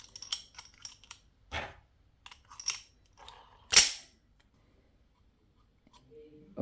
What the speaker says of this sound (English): This revolver is one of my most recent air guns